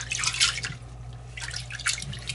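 Water drips and splashes in short bursts during the washing of dirty prep pouches, fairly close and moderately loud, with a low steady hum underneath.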